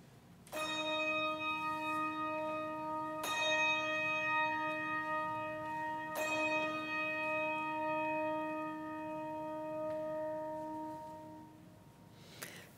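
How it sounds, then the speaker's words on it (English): Church bells ring before a worship service, three loud strikes spaced a few seconds apart, each leaving a long, sustained hum that fades slowly with no voices over it. "at the sound of the bells, please prepare your hearts and minds for worship"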